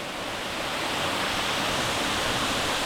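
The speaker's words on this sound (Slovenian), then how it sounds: "Spodnji slap Peštura" A steady, loud roar of water pours over the lower Peštura waterfall in Albania, a thick continuous hiss heard up close with no talking.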